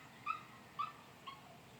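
A puppy across the street gives three faint, short whimpering yips about half a second apart, distant and quiet over a low background hum.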